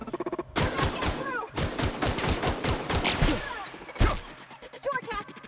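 Rapid bursts of gunfire from The Outer Worlds video game crackle in close, repeated volleys, with game characters talking over and between the shots.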